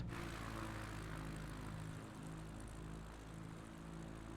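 A light propeller airplane's engine drones steadily on a touch-and-go landing approach at a private airstrip in São Paulo, a continuous close cabin hum with no talk.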